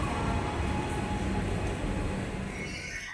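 An arriving metro train in Mumbai rumbles loudly and steadily close by, with a faint high wheel squeal creeping in toward the end.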